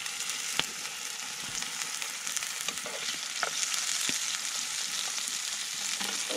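Bacon frying in a pan at an outdoor bushcraft camp, a steady close crackling sizzle broken by occasional sharp pops and spits, with no talking.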